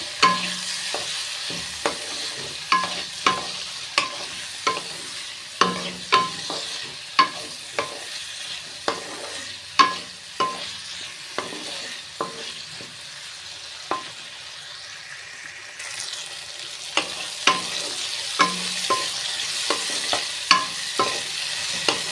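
Potol paste with turmeric fries in a pan, stirred in a steady rhythm of close spatula scrapes and knocks over a low sizzle, with no voices.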